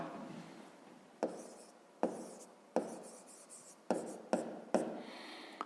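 Pen or pencil writing on paper during a 5th-grade maths exercise, with steady scratchy strokes broken by several sharp taps as the writer lifts and sets down the tip, close and fairly quiet, no talking.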